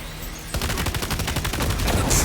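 Rapid automatic gunfire in the Death Stranding 2 video game, a dense run of sharp, evenly spaced shots that starts after a brief lull and holds loud and steady to the end.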